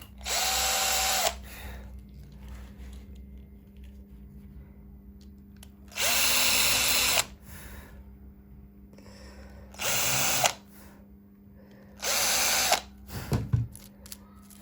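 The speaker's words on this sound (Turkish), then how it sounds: "Bunlara şimdi birer tane havşa açacağım." Electric drill countersinking screw holes in the wooden body of a handmade electric bağlama, with four loud whirring bursts of about a second each, separated by quieter gaps with faint handling noise.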